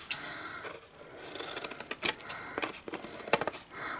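Scissors snip at the tab of a paper gift box in a series of small, crisp cuts and rustles, close up and quiet, irregular over several seconds with no talk.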